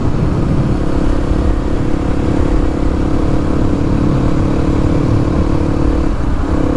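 A Kawasaki KLX 300 dirt bike engine runs close by with a steady, loud, buzzing idle and a faint blip of revs near the end.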